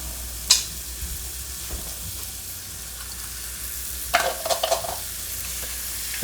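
Diced tomatoes and fresh garlic sizzle softly in a pot, with a few sharp scrapes and clatters of a spoon stirring near the start and in a busy burst toward the end.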